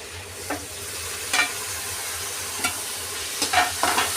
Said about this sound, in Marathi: तर हे छान असं मिक्स करून घ्यायचं आहे.